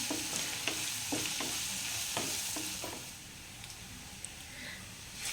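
Green chillies and curry leaves frying in a hot pan for a beetroot chilli curry, with a steady sizzle and a series of scraping spoon strokes that fade into continuous frying, no talk.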